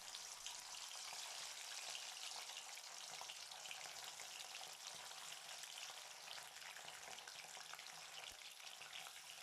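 Fish for Bengali tel jhal frying in hot oil, a dense, continuous sizzle that stays even and steady throughout, with no voices.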